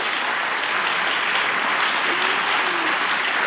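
A lecture-panel audience in a college hall applauds in a dense, steady wash of clapping that holds at an even level throughout, with no voices over it.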